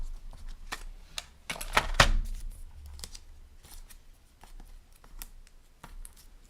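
Scissors snip through card stock close up, a few quiet crisp cuts with one sharper slice, amid light handling rustles in a quiet room.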